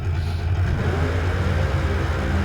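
A car's engine revs hard and steadily during a burnout at Mission, BC, heard from an in-car camera, with a continuous loud low drone and no talking.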